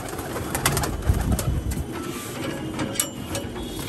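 Giribaz pigeons in a loft coo steadily nearby, with throaty murmurs layered over light rattling and wing or cage clatter, and no one speaking.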